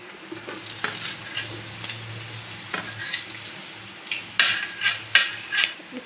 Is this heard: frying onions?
yes